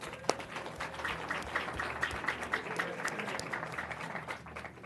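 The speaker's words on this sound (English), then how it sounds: "Let's give them all a round of applause." An audience at a city council meeting applauds four Jefferson Awards–winning schools, including Van Nuys Middle School, with steady, moderately distant clapping that runs throughout the clip without pause.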